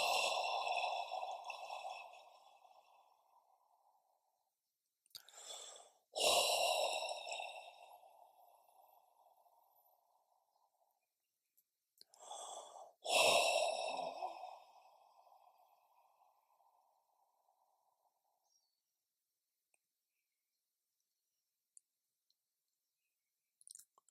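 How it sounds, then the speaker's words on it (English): Two slow, deep breaths in a quiet meditation session, each a long audible inhale followed by a drawn-out sighing exhale, then stillness with a few faint clicks. "Take 3 deep breaths,"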